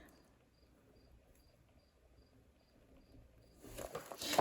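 Cricket chirping indoors, faint and regular with evenly spaced short chirps over a quiet room, followed by a louder burst of rustling handling noise near the end.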